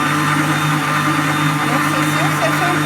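An electric mixer whips egg whites with sugar for meringue, a loud, steady motor whir running continuously close by, with its speed being raised.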